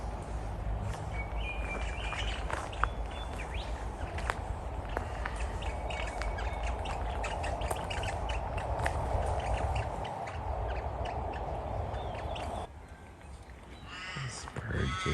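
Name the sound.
birds calling at Port Arthur, Tasmania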